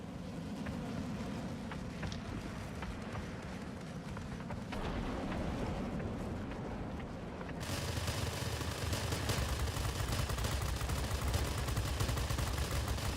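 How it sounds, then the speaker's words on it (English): Simulated gunfire from a Tier X North American F-86A jet's machine guns in the World of Warplanes game: a dense, continuous roar of rapid bursts over engine drone, growing louder and harsher partway through and running without a break. "See those machine guns really eat into them and start fires."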